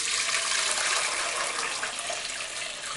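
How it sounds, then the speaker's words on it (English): Stock liquid poured straight through a strainer in a kitchen, a continuous loud splashing rush of liquid lasting the whole moment, with no talk. "I'm going to pour, because there's not a lot of liquid, I'm going to pour straight through."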